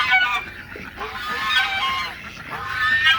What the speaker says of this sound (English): Naughty goose.